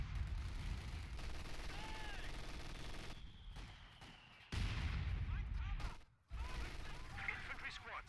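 Machine gun fire rattles in a World War II strategy game set around Tilly-sur-Seulles during the Battle for Caen, as British infantry advance into an MG position: loud sustained bursts with sharp breaks and brief pauses, mixed with distant battlefield blasts.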